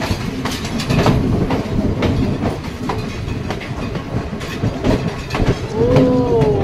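A train rolls across the Nine Arch Bridge in Sri Lanka, heard from on board. A loud, steady rumble carries rhythmic clickety-clack from the wheels, with a thin squeal of wheels on rails rising near the end.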